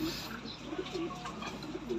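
Pigeons cooing in a loft, a few soft rolling coos repeating close by over a low steady background hum.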